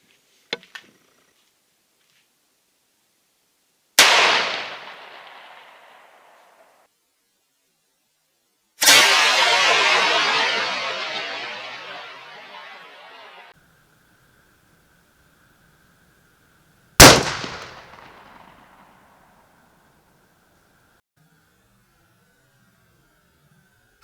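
A 45-70 rifle fires 305-grain Underwood Xtreme Penetrator rounds at sheet metal outdoors: three sharp, loud blasts several seconds apart, each trailing off in a long decaying roar, one followed by a faint lingering metallic ring.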